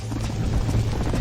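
Rapid, steady hoofbeats of a galloping horse in the video game Red Dead Redemption pound without pause, loud and close, with a rushing, busy background.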